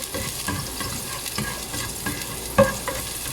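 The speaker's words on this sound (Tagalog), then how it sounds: "And then we put garlic." Garlic sautéing in a pan for kare-kare, a steady close sizzle broken by soft stirring scrapes and one sharper clack near the end.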